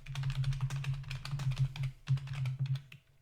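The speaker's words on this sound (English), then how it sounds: "Ignore the typing." Rapid typing on a computer keyboard, a dense run of close, crisp key clicks with short pauses, heard alone and fairly quiet.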